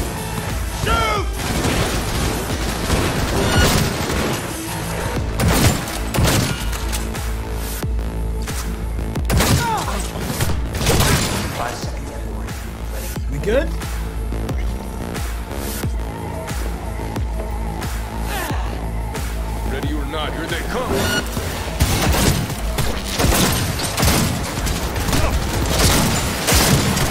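Rapid gunfire in Cyberpunk 2077 during a firefight, with dense, overlapping bursts and heavy booming shots repeating loudly throughout, alongside crashing impacts.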